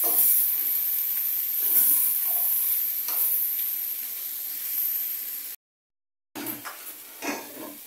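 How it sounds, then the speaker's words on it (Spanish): Poblano pepper strips stirred and frying in a pan, a continuous loud sizzle with scraping pulses from the stirring, briefly cut to silence before the sizzle resumes. "Ahora le voy a agregar las rajas. Lo mezclo un poco por 2 minutos nada más."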